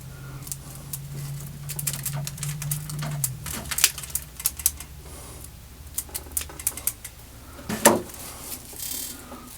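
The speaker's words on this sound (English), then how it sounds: "take this end right here, just kind of cut it off. And I use actually rose clippers to do that" Rose clippers snip off the end of a length of material, giving sharp close clicks and snaps scattered over a faint background, with one louder cut near the end.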